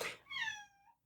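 A house cat lets out a single clear meow, drawn out and rising slightly before fading, close to the microphone in a quiet room with no talking over it.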